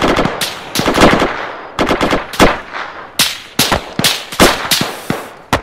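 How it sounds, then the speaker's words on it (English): Sustained gunfire at an airborne division military exercise: rapid strings of sharp shots and short bursts, loud and near, with brief gaps between volleys over several seconds. "keep firing there, boys"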